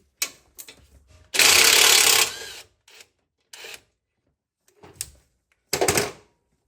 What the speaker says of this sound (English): Now we're gonna use a 13mm to take this brake line bracket free.